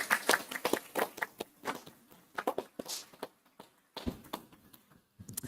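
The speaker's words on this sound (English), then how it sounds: "So can we all give them another round of applause?" Scattered, uneven claps from a small audience at a school district board meeting, with a few sharp hand strikes near and others softer, thinning out in short pauses.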